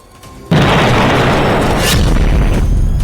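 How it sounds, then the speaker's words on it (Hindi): Explosion destroying a Hezbollah building in military footage, a sudden loud boom that breaks into a sustained roaring rumble for several seconds. "सेना ने सबसे ताजा वीडियो जारी करते हुए दावा किया कि उसने हिजबुल्लाह की इस इमारत को तबाह कर दिया है"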